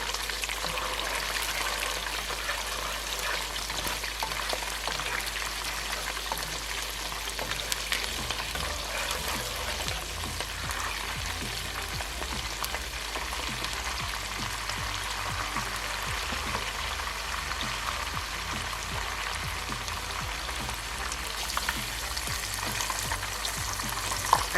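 Dried fish, including the head piece, frying in hot oil while cooking jollof rice, a continuous close bubbling sizzle that stays even throughout with no talk.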